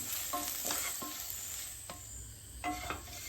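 Onions and chili powder fry in a pan for an elephant foot yam leaf stir-fry, with a quiet constant sizzle and several scraping strokes of a spoon stirring at irregular intervals.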